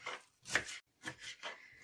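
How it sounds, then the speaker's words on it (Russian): Several crisp knife strokes on a cutting board, short bursts with brief pauses between them, close up and fairly quiet, like chopping green onion. "Нарезаем зеленый лучок."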